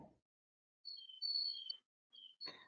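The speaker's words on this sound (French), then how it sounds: "Boris, on entend les oiseaux" Birds chirp outside, heard faintly in the background during an online meeting as a few thin, high, brief calls in a quiet gap after a voice ends.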